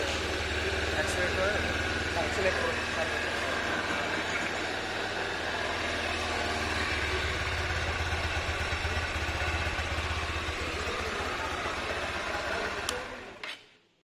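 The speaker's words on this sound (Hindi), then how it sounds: "इंजन का साउंड भी मैं आपको सुना दिया हूँ" A Honda Hornet BS6 motorcycle engine idles steadily with a low, even rumble for the whole stretch, then cuts off abruptly near the end.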